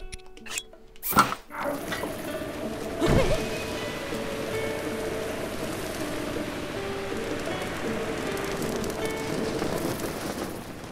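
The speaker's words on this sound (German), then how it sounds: "Und wenn es bald nicht mehr regnet" Steady rain falls in the Zelda: Breath of the Wild game world, an even hiss running throughout, with a few sharp thumps and clatters in the opening seconds.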